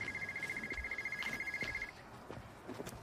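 An old-style telephone bell rings in a Russian melodrama film, trilling in steady rapid pulses for about two seconds before stopping, followed by faint rustles and soft room noise.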